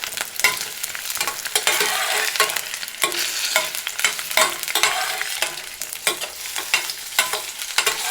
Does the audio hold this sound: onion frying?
yes